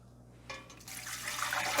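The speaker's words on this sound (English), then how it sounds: "now we are gonna be adding in our 4 cups of vinegar" Four cups of vinegar pour into a pot for old-fashioned mustard pickles; after a soft start, a close gurgling, splashing stream of liquid swells and keeps running.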